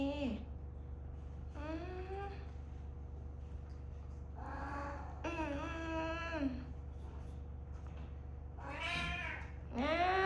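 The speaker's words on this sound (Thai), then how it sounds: "แมวขี้บ่น" A housecat meowing in drawn-out, complaining wails, several separate cries with pauses between them, close and fairly loud over a steady low hum.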